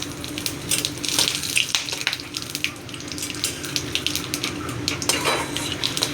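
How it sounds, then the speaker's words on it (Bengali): Bay leaf, dried red chilli, cumin and garam masala frying in oil in a wok, a steady crackling sizzle with clinks of a spoon against the pan throughout, no voices. "এবার কড়াইয়ে দেব ফোড়ন, তেজপাতা, শুকনো লঙ্কা, জিরে আর গরম মশলা।"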